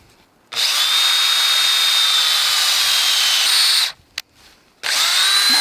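A power drill bores holes in wood for van furniture framing, a loud, high-pitched steady whine running about three seconds, a brief stop with a click, then starting again, close up.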